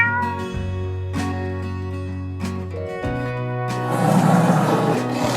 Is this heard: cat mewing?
yes